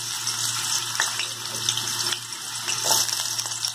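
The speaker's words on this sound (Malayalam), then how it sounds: "Panile enna choodaayittunde. Namukku urulakkiyanga kashnangal onnu varthedukkam." Potato pieces frying in hot oil in a pan, a steady, close hiss and bubbling sizzle with small crackles, fairly loud and continuous, with no voices.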